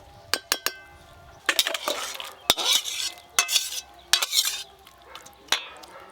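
Crab and cauliflower gravy in a pan, garnished with chopped coriander, is scraped and poured out with a spoon: a series of sharp metallic clinks and scrapes with soft wet slides between them, close and fairly loud.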